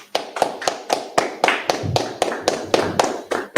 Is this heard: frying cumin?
no